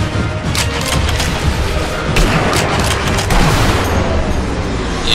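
Continuous loud gunfire and booming from the video game Sniper Elite V2, a dense unbroken barrage with no talk over it.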